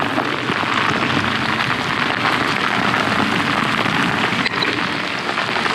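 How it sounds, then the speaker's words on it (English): Heavy rain pours down on a bikepacking trail, a dense, steady hiss of drops hitting the ground and surroundings, loud and unbroken throughout, with no voices. "holy crap, it's raining"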